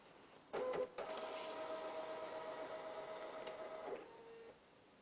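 A small card printer feeds in and prints a ballot card, a short mechanical clunk followed by several seconds of steady whirring motor hum with a faint whine, ending in a softer tail as the card finishes.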